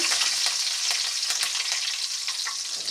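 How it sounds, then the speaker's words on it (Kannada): Mustard seeds and cumin splutter in hot oil as tempering for a hotel-style bottle gourd sambar, a close, busy crackle of rapid sharp pops over a constant sizzle, with no talking. "ಸಾಸ್ಮಿ ಚಟಾಪಟ ಅಂತ ಸಿಡಿಬೇಕು ರೀ"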